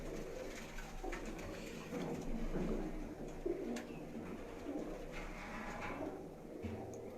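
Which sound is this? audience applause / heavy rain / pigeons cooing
pigeons cooing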